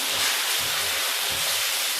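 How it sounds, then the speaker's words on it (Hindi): Chicken pieces sizzle and hiss steadily in a pan over a high flame while being browned for a chicken korma, a dense broadband frying sound with no voices. "इसको थोड़ा सा हम भून लेंगे।"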